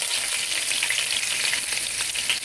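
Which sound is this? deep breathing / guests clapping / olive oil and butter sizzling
olive oil and butter sizzling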